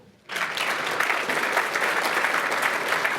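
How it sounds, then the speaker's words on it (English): An audience at a guest-speaker business event bursts into a round of applause after a short silence, with thick, even clapping that stays loud and sustained to the end. "round of applause"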